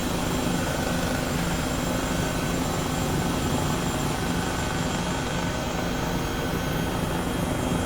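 An H135 helicopter in the Microsoft Flight Simulator 2020 game flies near Burbank airport, its rotor and turbine making a loud, steady, dense whir. The drone holds unchanging throughout, with no voices.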